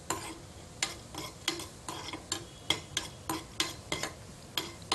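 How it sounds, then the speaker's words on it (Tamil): Small broken cashew pieces fry in ghee in a non-nonstick pan, a soft sizzle under regular scraping strokes of a spoon, about ten rhythmic stirs in quick succession, close and faint. "இந்த நெய்யில் நம்ம முந்திரி பருப்பை நான் சிறு சிறு துண்டாக உடைச்சி சேர்த்துருக்கேன்"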